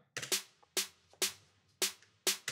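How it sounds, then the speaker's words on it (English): Two layered snare samples, one snappy and one roomy with echoey reverb, sound like a single snare with a reverb tail, five strikes in an even pattern, each ringing out briefly before the next. "it sounds like one snare with some reverb on it"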